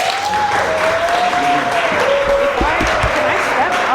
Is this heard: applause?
yes